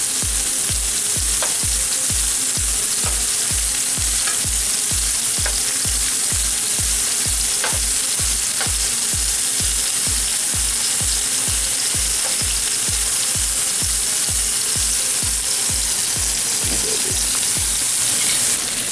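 Turkey meatballs fry in a pan with a steady, close sizzle and crackle, punctuated by a regular rhythm of low thumps throughout, with no talking.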